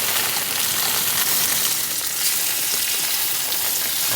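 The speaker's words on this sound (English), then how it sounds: "bacon and the patties, sizzling away." Bacon and burger patties sizzle loudly and steadily in a hot pan, a dense crackling hiss close by with no voices.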